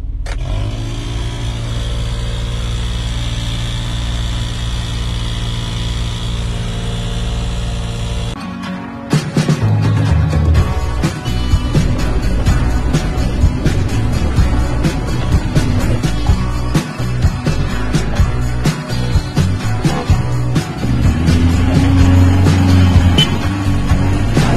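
In a Geo Tracker, a faulty heater fan runs with a steady droning whir at first. Then it turns into a loud, harsh rattling clatter that keeps going without a break.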